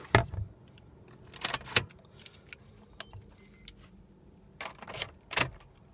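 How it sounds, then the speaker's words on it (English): A key is pulled from the ignition of a 2018 Toyota Corolla, giving a few close metallic jingles and clicks in short bursts, with quiet gaps between them and no talking. "take key out of the ignition"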